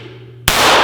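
A Sig P238 .380 pistol loaded with a Kimber magazine fires a single sharp, loud shot after a brief quiet hum, close to the recorder.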